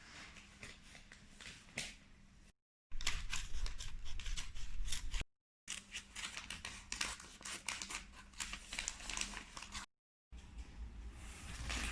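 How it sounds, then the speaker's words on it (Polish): Scissors cut away leftover paper from a pompom craft picture in quick, crisp snipping bursts, close up and separated by short silent gaps, with no voices. "a ja wytnę po prostu te resztki tych kartek"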